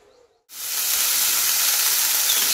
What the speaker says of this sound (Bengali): ডিমটা ভাজতে বসিয়ে দিলাম।